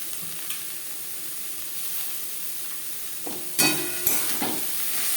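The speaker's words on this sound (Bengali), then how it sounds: "গাজর ও বাঁধাকপি বেশ ভালো করে মিক্স করে দেবো।" Carrots and cabbage being stirred with spices in a pan over medium flame: a low sizzle runs throughout, broken near the end by a few louder scraping stirs of the spatula against the pan.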